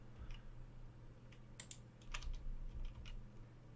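Someone types on a computer keyboard while working in Blender, producing a few soft, scattered key clicks over a low background hum. The typing is faint and close, and nobody speaks.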